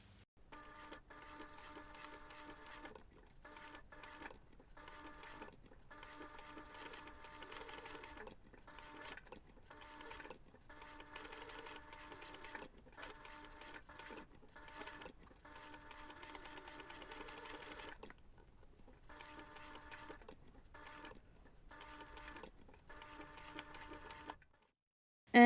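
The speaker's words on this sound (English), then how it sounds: "and then I sew the rest." A sewing machine top-stitches a felt reindeer keychain in short bursts of fast, even whirring, broken by frequent brief pauses, close and fairly quiet throughout with no speech.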